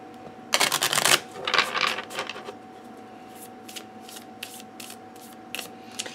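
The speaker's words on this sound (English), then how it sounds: "Probably would do some more, you know, riffle shuffling to really get a good mix out of a new deck that's all in order." A Lenormand card deck, new and still in order, being riffle shuffled close up: a long crisp burst of riffling, then a shorter second riffle, followed by scattered light taps and card-handling clicks, with no talking.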